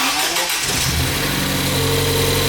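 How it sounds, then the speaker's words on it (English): A Ford Fiesta ST cold-starting nearby: a brief crank followed by the engine catching and settling into a loud, high, steady fast idle with no talking. "Oh, it's a cold start."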